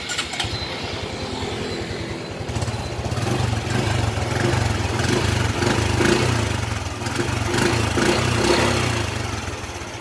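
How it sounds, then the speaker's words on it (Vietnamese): A small Honda Future motorbike engine turns over and catches, then settles into a loud, rough, steady idle that rises and dips slightly. "Để qua nổ máy cho anh em nghe tiếng máy nha."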